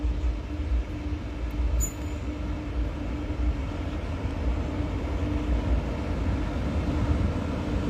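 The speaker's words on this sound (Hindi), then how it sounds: "ये देखिए जो रेलगाड़ी है वो पहुंची है" A train pulling into a railway station on a new line, a steady low rumble of wheels and carriages running evenly throughout, with a brief high squeal near the two-second mark.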